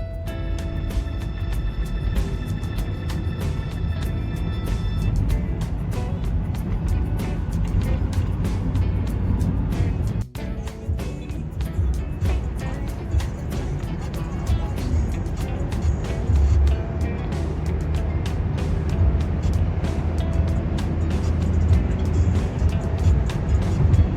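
A car cruising on the Samruddhi Mahamarg expressway, heard from inside as a steady low road and engine rumble with continuous tyre noise and faint rattles throughout.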